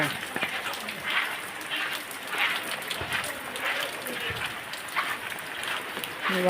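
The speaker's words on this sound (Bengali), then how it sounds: "দেখি আরো বৃষ্টির কি অবস্থা।" Rain falls steadily outdoors over a village during a downpour, a dense, even patter on surfaces with occasional louder drops. A few faint voices can be heard in the background.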